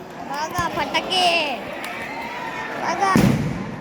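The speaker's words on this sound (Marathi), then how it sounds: "बघा फटाके" Firecrackers bursting at a crowded religious procession, sharp cracks and fizzing whistles against the noise of the crowd, with a voice talking over them.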